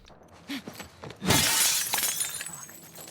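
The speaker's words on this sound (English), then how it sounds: "I'm going to dodge and break the glass" Glass shatters loudly in The Last of Us Part II, a sharp crash that bursts and then trails off into scattered tinkling shards, following a couple of soft thuds and movement sounds, with no talking.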